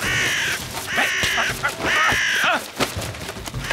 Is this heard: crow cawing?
yes